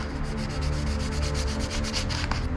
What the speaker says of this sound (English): Now let the sandpaper do its job.